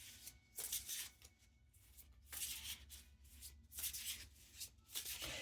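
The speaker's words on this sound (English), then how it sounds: "we're just gonna shuffle for a minute and we'll pull a card for the collective" A deck of tarot cards is shuffled in repeated soft riffling bursts with brief pauses between, close and quiet with no talk.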